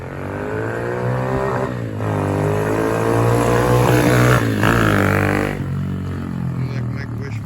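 An RPS 110 pit bike engine, its carburetor just repaired after a stuck-open throttle, runs loud and close with a steady buzzing drone that rises and falls as the throttle is worked.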